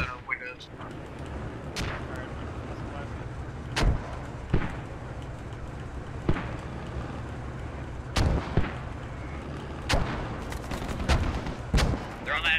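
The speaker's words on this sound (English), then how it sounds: "You're free to open fire to anything and everything on that wall." Gunfire rings out in the military shooter game Squad: sharp, loud shots crack at irregular intervals over a rumbling battlefield background while a voice keeps talking between the bursts.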